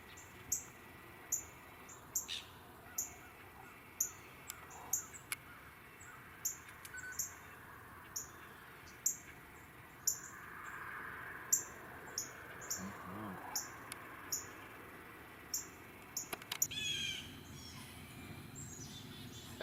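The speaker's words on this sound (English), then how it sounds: "As all the alarm calls indicate, the broad-winged hawk is a dangerous predator" Blue jay alarm calls aimed at a broad-winged hawk: thin, high, repeated bird calls at a regular pace over roughly twenty seconds. They are fairly faint and distant over a soft outdoor background, with no voices.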